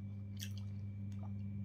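Crunchy bites of a fresh apple being chewed close up, a few crisp crunches spaced apart over a constant low electrical hum.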